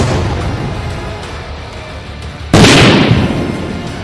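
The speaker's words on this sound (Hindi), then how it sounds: "क्रेमलिन के गुंबद के पास ड्रोन का धमाका हुआ।" A drone explodes near the Kremlin dome in Moscow: a sudden loud blast cuts in midway through a low background rumble, then a broad roar slowly decays.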